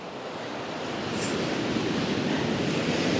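Ocean waves rolling onto a sandy beach, a full, steady surf wash that swells slightly louder as it goes, with some wind buffeting the microphone.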